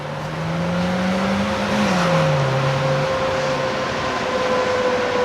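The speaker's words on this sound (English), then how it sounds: "A mighty spin of the tires." A 2001 Ford Focus with red body, black fenders and white hood revs and spins its tires on a cone-marked track at a Ford Nationals shootout, a loud sustained engine drone with a rising then falling pitch sweep.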